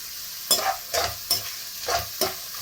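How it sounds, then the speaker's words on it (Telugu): Onions and chillies frying for prawn biryani, stirred in five distinct scraping strokes spaced about half a second apart over a continuous close, loud sizzle, with no voices. "ఇట్లా కొంచెం ఆనియన్స్ వేసుకొని ఇట్లా బాగా కొంచెం బ్రౌన్ కలర్ వచ్చే వరకు మనము ఫ్రై చేసుకుందాం."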